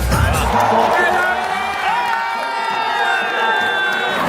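A packed arena crowd at Olympic speed skating in Milan roars and cheers continuously, loud and close, with a commentator's voice running over the noise.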